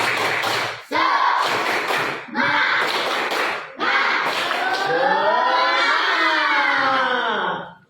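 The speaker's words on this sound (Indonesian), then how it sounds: "Tepuk semangat." A classroom group performs a rhythmic spirit-clapping chant: bursts of clapping and chanting voices in bursts, then a long rising shout of cheering voices at the end.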